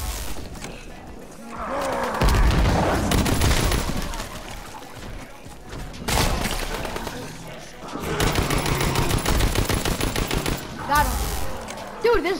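A powerful gun firing in Call of Duty: WWII zombies mode, heavy bursts of rapid shots in two main stretches, loud and close, mixed with growling zombies and a player's voice.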